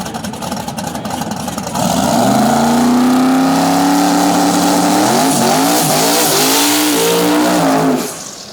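A twin-turbo small-tire drag racing car launches and makes its run at a drag strip event, a loud roaring engine rising in pitch through the gears, then cutting off near the end.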